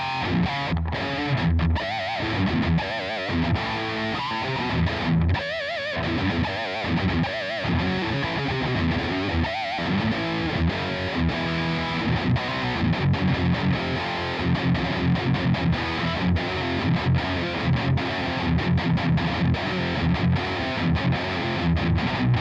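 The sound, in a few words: distorted guitar through Digitech RP355 Mesa Boogie preset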